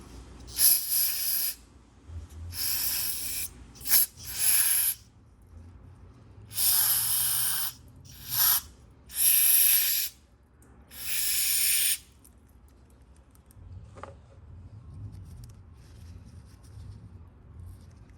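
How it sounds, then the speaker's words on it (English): Brake cleaner aerosol sprayed on a 2007 Nissan Sentra during PCV valve work, sounding as repeated loud hissing bursts of one to two seconds each, separated by short pauses, followed by quieter low rumbling. "I'm gonna use a little bit of brake cleaner"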